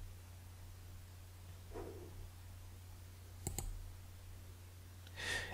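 A single short, faint click of a computer mouse sounds in a quiet room with a low steady hum, with a couple of soft rustles around it.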